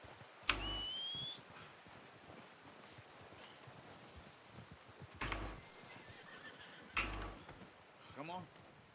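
Horses in the Red Dead Redemption 2 video game whinny and snort in several short, sharp bursts spread across the stretch, with soft hoof clip-clop and faint outdoor ambience between the calls.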